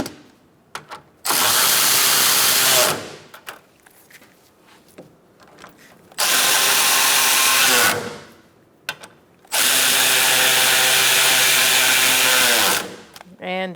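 Power tool tightening bolts while fitting a radiator on a 2014-2019 Kia Soul 1.6L L4, three loud sustained whirring bursts separated by pauses with small clicks and handling noises.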